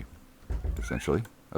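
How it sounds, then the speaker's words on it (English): A house cat meows in the background, short and moderately loud, mixed in with someone talking over it. "that's my cat in the background."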